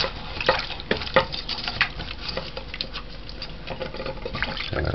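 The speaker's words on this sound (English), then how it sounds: "This is frozen. Just kind of rinse this off." Frozen salt mackerel rinsed under running water for a stew, heard as a steady close splashing stream broken by irregular spatters and knocks as the fish is handled, with no talk.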